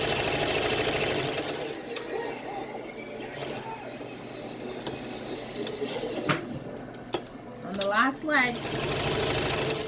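Sewing machine running steadily while stitching a dog coat, close and continuous, with a few brief clicks and a short spoken remark near the end.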